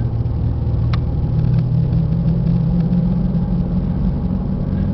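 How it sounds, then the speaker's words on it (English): Steady road noise from inside a moving Isuzu Trooper V6 4x4 SUV, a constant low engine rumble with a faint whine from its knobby tires running throughout. "You can hear those tires. They're a little loud because they're knobby."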